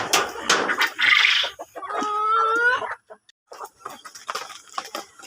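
Chickens at feeding time, close by: brisk clucking and squawks, a rooster's crow in the middle, then scattered soft clucks and pecking.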